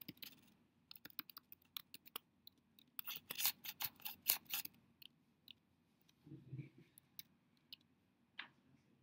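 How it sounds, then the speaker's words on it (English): Keys tapped on a computer keyboard while dialing through a phone system, irregular clusters of close clicks with brief pauses, a short burst of faster typing in the middle, and a soft voice murmuring near the end. "I'm typing the 3 key, and then I'm typing the pound key each time I hit enter."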